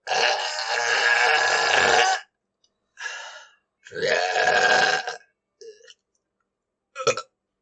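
Several loud, gritty burps in a row, the first long and drawn out, followed by shorter bursts with pauses of silence between them.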